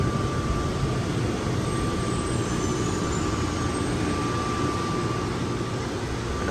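The Plane Train people mover at Atlanta airport runs with a steady, loud rushing rumble and a faint high whine, an unbroken drone with no talk.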